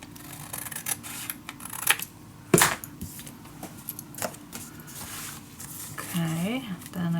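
Paper for a shabby chic mini album made with Fleur Designs papers is cut and handled nearby. Irregular snips, clicks and rustling come in scattered bursts, with one sharper snap in the middle.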